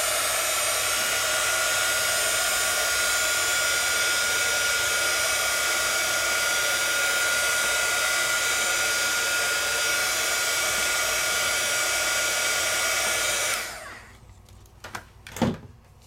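A hair dryer blows steadily and loudly on alcohol ink spread over paper, a constant broadband whoosh running for about thirteen seconds before it cuts off, leaving a few faint clicks and knocks.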